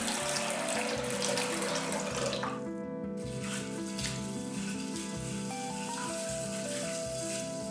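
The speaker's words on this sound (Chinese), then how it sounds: "150克红豆，清洗干净。" Tianjin red beans are rinsed by hand under a running tap, water splashing and swirling in a bowl close up, steady and fairly quiet with no talking.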